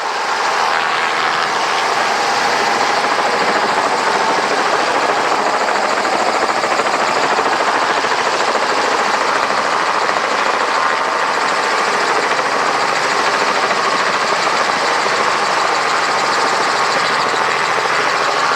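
A Robinson R44 helicopter hovering during ramp work, its engine and rotor giving a loud, constant droning hum that holds steady with no break.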